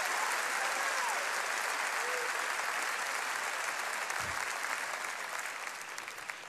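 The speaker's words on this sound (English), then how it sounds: "I need somebody to clap your hands like you believe the promise today." A church congregation gives a sustained round of hand clapping during a sermon, a thick continuous wash of many hands that holds steady and then thins slightly toward the end.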